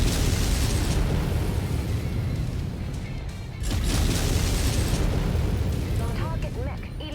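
A mech explodes with a deep, rumbling boom amid constant heavy battle noise in MechWarrior 5: Heroes of the Inner Sphere, and an announcer-style voice can be heard talking over the din.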